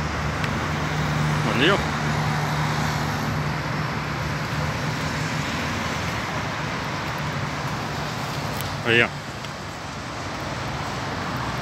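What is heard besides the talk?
road traffic on Avenida Pedro Álvares Cabral, São Paulo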